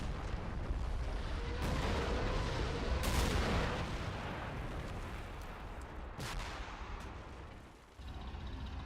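Rocket artillery firing in the war game Men of War Assault Squad 2, a dense continuous roar of launches and blasts with a few sharper booms standing out, loud and sustained.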